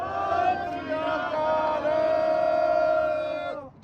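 A protest crowd outside Facebook in Menlo Park, California, rallying for farmers, raises a Sikh jaikara together: a loud, sustained massed shout held for several seconds before it breaks off.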